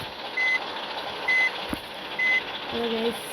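A modified Force Traveller van creeping backwards slowly on an off-road trail, its reversing alarm sounding three evenly spaced beeps over a low idling engine and outdoor background.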